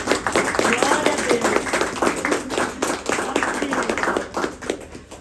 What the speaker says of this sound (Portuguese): Manda aplaudir o Senhor